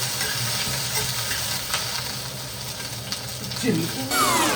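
Garlic being stirred in a frying pan for gongura chutney, a close, steady sizzle with scraping stir strokes throughout, a few sharper clinks and a brief squeaky scrape near the end.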